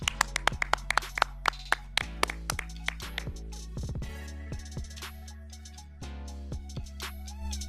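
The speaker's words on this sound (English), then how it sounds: "Clap it up." A few people clap at the close of a football recap show, sharp claps that start brisk and close, then thin out into scattered, quieter claps over a low background.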